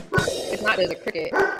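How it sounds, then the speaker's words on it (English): A pet dog barks in a few short yips and woofs, close by, mixed in with conversational talk over the top. "And that's my dog."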